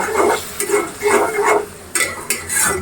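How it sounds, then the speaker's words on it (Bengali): Spice masala with turmeric, a splash of water and ginger garlic paste stir-fried in a pan in a rooftop garden kitchen, heard as rhythmic, close scraping strokes over a bubbling sizzle, with no voices. "খুব ভালো করে মশলা কষিয়ে নিব"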